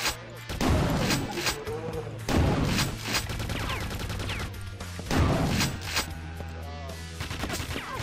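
Enemies in the shooter game Quake 2 fire continuously, producing dense bursts of rapid gunfire and booming blasts, loud and close throughout with no pauses.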